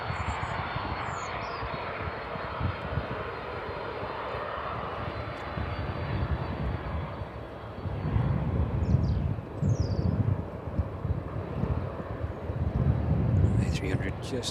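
A Boeing 767 landing at East Midlands Airport with strong reverse thrust, a loud continuous jet roar that swells and surges in waves as the engines spool up, with some wind buffeting.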